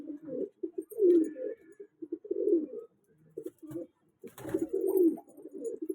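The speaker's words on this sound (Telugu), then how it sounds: "బర్డ్ చూడండి ఫ్రెండ్స్ ఎట్లా ఉందో" A pigeon cooing up close in repeated throaty, rolling bursts separated by short pauses, with faint handling noises in between and no talking.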